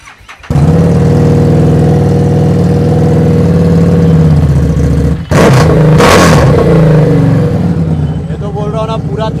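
A 2015 Harley-Davidson Street 750, a 750 cc motorcycle, runs loud and close, its engine holding a deep steady rumble with a sharp rev burst midway, then settling back.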